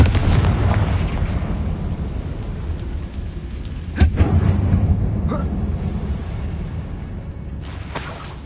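Loud blast of a Confringo fire spell in Hogwarts Legacy inside an abandoned mine, a rumbling explosion with a sharp crack midway and a few later pops over a heavy low roar, no voices.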